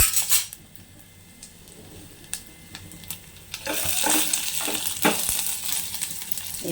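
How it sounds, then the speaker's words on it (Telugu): Crushed garlic and black pepper fry in a pan for pepper rasam, a soft steady sizzle under clinking and scraping of a metal spoon stirring against the pan, close by. "అది వేసుకున్న తర్వాత 1 నిమిషం వేగాలండి."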